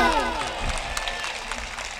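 Brief, moderately faint audience applause ripples through a Delhi mushaira poetry recital, a soft wash of clapping blended with a little voice at the start.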